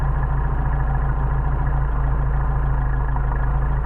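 A Mercedes 190SL engine with Solex carburetors idles at around 900 rpm, a steady low, even rumble with a fine pulsing beat and no other sounds.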